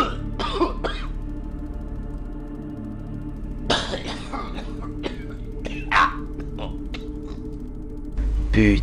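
Someone coughs a few times in the dark, short harsh bursts spaced apart over a steady low hum, with a muffled voice in between.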